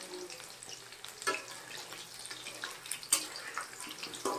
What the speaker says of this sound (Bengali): চিকেন পকোড়াগুলো আমি ভাজতে দিয়ে দিয়েছি